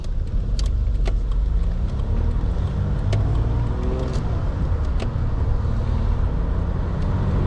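A Peugeot 605 V6 engine hums steadily from inside the cabin while driving, with road rumble underneath and occasional light clicks and rattles.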